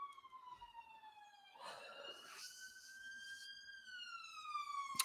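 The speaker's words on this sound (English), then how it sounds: "I don't know if you can hear that siren." A police-style siren wails outside at a distance, its rising and falling tones sweeping steadily for several seconds, faint but clear over a quiet room.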